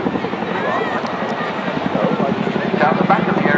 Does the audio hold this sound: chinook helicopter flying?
yes